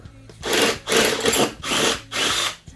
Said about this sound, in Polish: Tutaj mamy wiertło 14, więc ono pewnie nie przejdzie